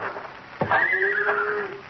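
A horse whinnies at night, a loud rising and falling neigh lasting over a second, heard close with a faint hoof clop in the background.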